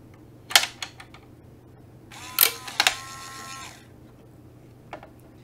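A foam blaster's electronic target resetting mechanism: a few sharp mechanical clicks, then a small motor whirs briefly before stopping with a clack, close and quiet in a still room.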